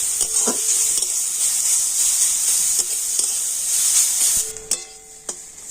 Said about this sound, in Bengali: তো তেলের গাজরটা একটু ভেজে নেব